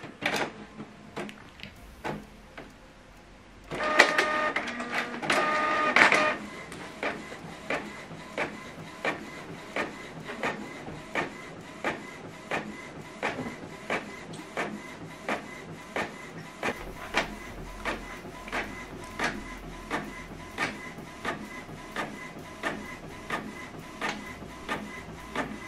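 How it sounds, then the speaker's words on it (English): Canon or HP Deskjet printer printing a double-sided document, with a brief louder paper-feed whir followed by a long run of steady, evenly spaced mechanical ticks and print-head passes, close and alone. "Now this document now is going to print out here"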